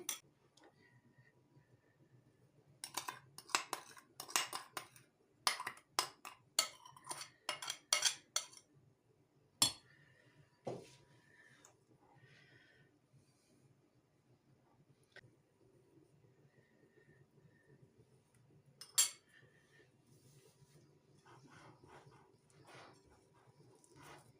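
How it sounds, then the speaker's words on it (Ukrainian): Eggs and sugar being beaten with a fork, bursts of quick, light rhythmic clicking against a bowl with pauses between, close and fairly quiet. "Зараз вилочкою переб'ю."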